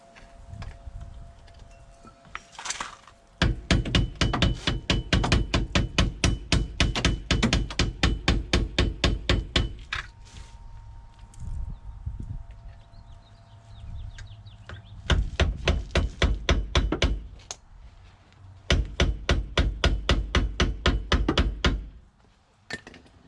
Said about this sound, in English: I'm using a flathead to wedge it in between the actual hub and the trailing arm to actually pop it off.